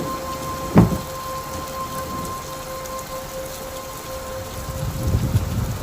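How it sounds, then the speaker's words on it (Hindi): Steady rain falls on a rainy night, a soft continuous patter, with one brief sharp knock early on and a low rumbling swell near the end. "सब बस बारिश की आवाज़ सुन रहे थे"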